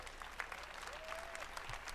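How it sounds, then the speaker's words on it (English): Faint, distant applause from a crowd at a game-developer press event, a steady wash of clapping for about two seconds with faint voices mixed in. "Let's give them all a round of applause"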